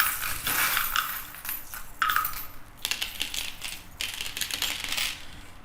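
Small metal charms are shaken and tossed for a charm-casting reading, producing repeated bright jingling clatters in bursts, close and fairly loud, without talk.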